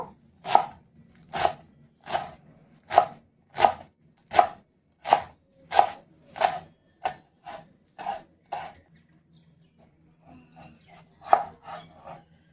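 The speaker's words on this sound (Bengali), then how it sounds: "তো একটু ছোট ছোট করে কুচি করে নেব।" A knife chops cleaned greens into small pieces on a board, about a dozen crisp, evenly spaced cuts close up, pausing briefly before a few softer strokes resume.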